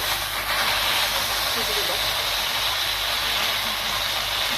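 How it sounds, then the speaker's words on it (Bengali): A fish dropped into hot oil in a kadai sizzles with a steady, loud, broadband hiss that holds evenly for a few seconds. "মাছটা দিয়ে দিচ্ছি, দেখতে পাচ্ছি। দেখো এখন কড়াইতে দিয়ে দিয়েছি"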